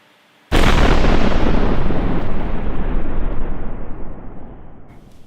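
A single loud explosion bursts in suddenly after a moment of near silence, then rumbles and slowly fades over several seconds, heard alone.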